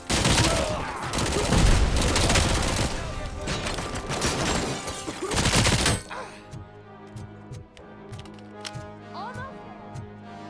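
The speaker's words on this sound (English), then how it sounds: "more grenades!" Grenades explode during combat in the video game Robocop: Rogue City. About six seconds of loud, dense crashing blasts and crackle give way to quieter game ambience with scattered clicks.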